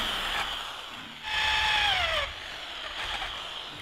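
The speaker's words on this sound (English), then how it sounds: "we're going to drill some holes and persevere" A power drill boring into wood whirs briefly, rising in a steady whine for about a second before cutting off, with quieter mechanical noise before and after.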